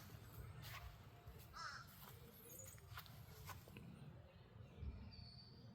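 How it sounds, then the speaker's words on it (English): A bird, probably a crow, caws a few times outdoors near honeysuckle and a small blue birdhouse, moderately far off over steady low background noise and rustling. "I think that bird's fussing at me."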